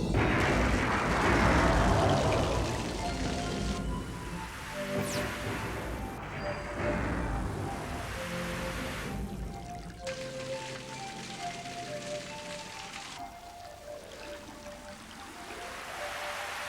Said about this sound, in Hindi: बहुत तेज बारिश भी हो रही थी और तो और बिजली भी कड़क रही थी।